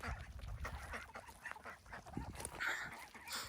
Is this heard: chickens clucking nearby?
yes